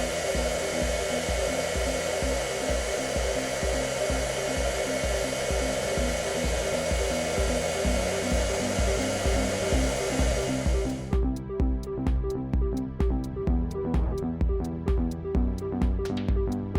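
A heat gun blasting hot air to shrink wrap onto a grip makes a steady loud whir with a pulsing motor hum, then the airflow cuts off about two-thirds through, leaving the fan humming as it spins down with light clicks.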